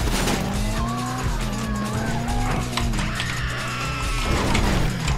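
Car engine in GTA Online driving steadily with a sustained loud revving drone and shifting pitch, some tyre noise throughout, game sounds dense with no clear speech.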